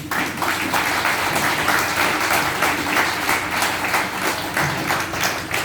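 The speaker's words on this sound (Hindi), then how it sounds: "तो एक बार आप लोगों के लिए जबरदस्त तालियां।" An audience at a goal-setting training session claps steadily and loudly, a sustained, even wash of applause with no talking over it.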